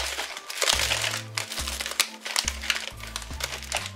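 Plastic wrapping crinkles and rustles around a handmade soap tulip bouquet as it is pulled tight and tied with white ribbon, close and crisp over soft background music.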